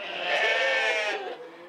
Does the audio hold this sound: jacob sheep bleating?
yes